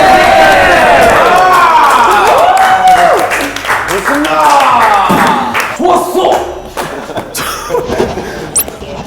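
Clapping and cheering from a small group, lively and close, with voices calling out over the applause throughout.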